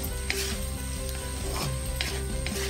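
Potato bhujia sizzles in a pan while being stirred, a steady close hiss of frying with soft scraping strokes and a low hum underneath, no voices.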